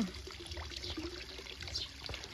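Water trickles steadily through a kitchen garden beside vegetable plants, a soft continuous flow with light splashing that stays low and even throughout, with no voices over it.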